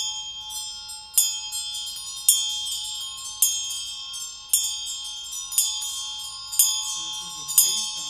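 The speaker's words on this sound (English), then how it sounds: "Whenever we play the bell is always held and played with the left hand." Ritual bell used in Chod practice, rung with the left hand in a steady pattern of about eight clear, ringing strikes, each sustaining a bright shimmering tone over a faint low background hum.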